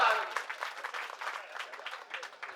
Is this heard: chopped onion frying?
no